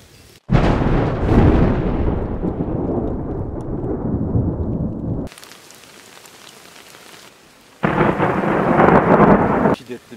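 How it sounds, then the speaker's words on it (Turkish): Heavy rain pounds down at a tent campsite during a storm, a loud dense roar that drops to a softer patter for a few seconds before the downpour surges again. "Şiddetli bir yağmur geldi."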